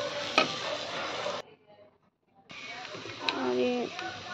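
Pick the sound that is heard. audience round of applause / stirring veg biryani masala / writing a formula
stirring veg biryani masala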